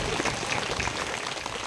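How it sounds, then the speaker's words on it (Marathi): An audience claps to welcome guests at a haldi-kunku gathering, a dense, even wash of many hands that carries on throughout. "सगळ्यांनी टाळी वाजवून स्वागत करायचं."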